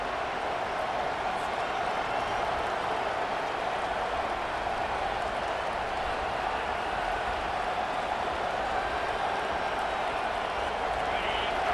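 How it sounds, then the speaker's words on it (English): Dense, constant crowd roar filling a football stadium in College Football 25, an even, unbroken wall of noise with a voice talking faintly underneath. "this crowd trying to help keep them there"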